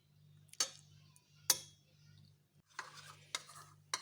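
Wheat flour is stirred into cold milk in a bowl in a home kitchen, a few sharp spoon clicks and soft scraping strokes, quiet and close, with no talk.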